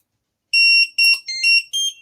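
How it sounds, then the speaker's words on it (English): A demo board's piezo buzzer beeps out the Mario tune in short, clean electronic tones, five quick notes of varying pitch, close and clear with no speech. "So you've probably heard a little beeping then. It's Mario."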